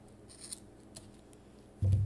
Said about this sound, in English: I'm pulling the cups tight to create more tension. That way it makes it easier to cut.